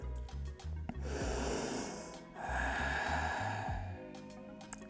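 Two long, deep breaths drawn in through the nose during a relaxing yoga stretch on a mat, each a soft airy rush with quiet gentle music underneath.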